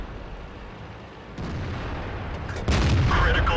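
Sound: tank cannon shots firing at an AMX in World of Tanks video game

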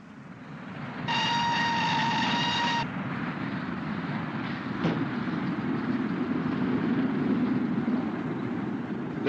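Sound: mail train running, pouches swept aboard

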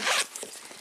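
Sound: zipper on a fish-pattern shoulder bag pocket

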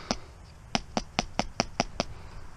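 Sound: paint brush knocked against shoe

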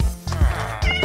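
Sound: cat meowing in the video game Minecraft

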